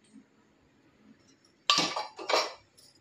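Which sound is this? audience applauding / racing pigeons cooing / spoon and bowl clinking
spoon and bowl clinking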